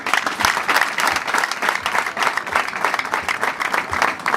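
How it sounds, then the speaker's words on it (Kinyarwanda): Audience applause for God at a TTC Garukushime 2024 student celebration, a dense sustained clapping that runs steady and loud from start to finish. "Dukomere Imana amashyi"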